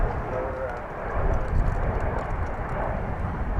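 A Fiji Airways jet arriving at DFW Airport makes a broad, steady engine roar at a distance, with talk underneath the rumble.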